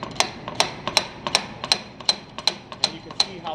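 Repeated sharp metallic knocks from a hammer-like tool striking a broken hub to knock it off, about eleven evenly spaced taps over a few seconds, close and fairly loud with no talking.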